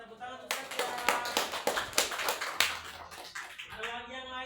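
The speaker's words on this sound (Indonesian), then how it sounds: "Tepuk tangan untuk Satya." A small group in an on-the-job training session claps for a presenter, a short burst of fairly close, sharp hand claps that thins out after a few seconds while a voice briefly speaks near the end.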